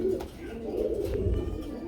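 Shouking pigeons cooing softly, a low throaty murmur that swells and fades over a couple of seconds, close by with no talk.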